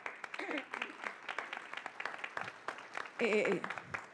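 People seated at a panel on children's rights clap for representative Ángela Sánchez, sparse sharp claps scattered unevenly across the moment, with voices murmuring and one person speaking briefly near the end.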